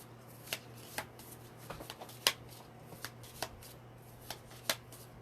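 Tarot cards are shuffled with soft riffling and sharp, irregular snaps, close by and fairly quiet, with no one talking.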